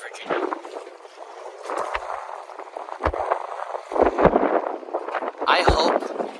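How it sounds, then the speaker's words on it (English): Gusty wind buffets the microphone outdoors in frigid, windy conditions at a Northern Virginia perch fishing spot, producing loud, uneven rumbling bursts that rise and fall. "I hope that my microphone is picking up that wind"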